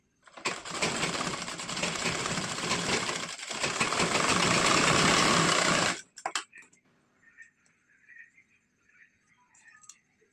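A sewing machine stitches a three-piece princess-cut blouse, whirring loudly and continuously for about six seconds with a brief hitch midway, then stopping, leaving faint handling sounds.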